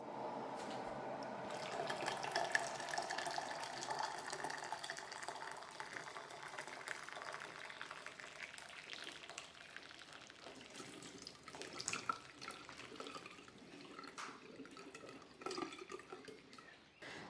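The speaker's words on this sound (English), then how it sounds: "I just sit it on the bench and just overflow it all with boiling water" Boiling water is poured to overflowing over fermenting equipment sitting on a kitchen bench to sterilise it. A steady splashing pour runs strongest over the first few seconds, then thins into trickling, drips and light clatter, with no talking.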